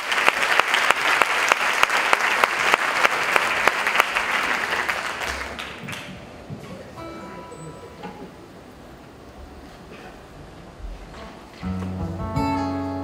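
Loud, dense audience applause fills a Premios Latino 2017 awards gala, honouring the sound and lighting technicians, then thins out and gives way to quieter background sound and music.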